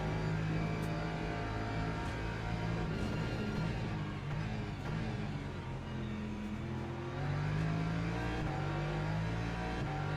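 A racing car engine in a racing video game, a Mercedes among the field, holds a steady droning whine that rises and falls slightly across the stretch, with several engines layered and no talk over it.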